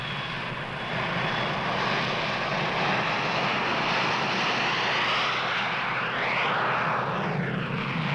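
A courier plane's engine drones steadily in flight, a loud, constant propeller-aircraft roar with no break, heard on its own.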